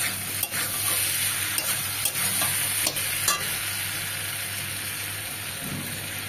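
Spring onions sauté with salt, turmeric and chilli powder for a small-fish chochchori, sizzling evenly with a few light clicks of stirring early on.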